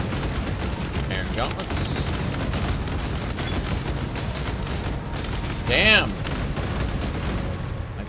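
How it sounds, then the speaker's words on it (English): Bursts of explosions from enemies dying in the video game Path of Exile, muffled booms and crackling blasts under game effects, with a louder sweeping burst near the end and someone speaking briefly. "You could hear the explosions as each one died"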